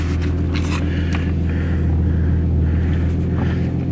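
A 1991 Nissan 300ZX 2+2 with an automatic gearbox pulls away, a loud, steady engine drone filling the cabin with a few light scrapes and rustles on top.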